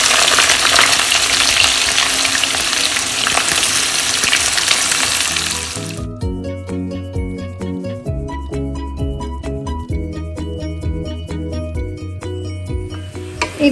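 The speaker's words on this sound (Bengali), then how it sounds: "আমি এখানে এই পেঁয়াজটা এবার দিয়ে দেবো" Onion fries in a pan with whole spices and black peppercorns, a loud, close, hissing sizzle for about six seconds before it drops away and music with a steady beat takes over.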